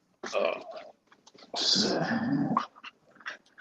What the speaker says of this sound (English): Do you hear her growling at me?